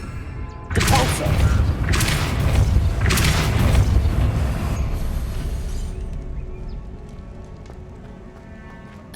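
A Depulso spell cast in the video game Hogwarts Legacy sounds as a series of three or four heavy, crashing bursts. They are followed by a rumbling, gritty mechanism noise that fades away over several seconds.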